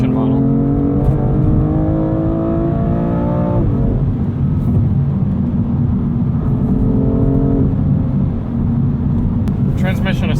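The engine of a 2020 BMW M2 Competition pulls hard under acceleration, its pitch climbing steadily before dropping sharply at a gear change and climbing again to a second shift, heard loud from inside the cabin.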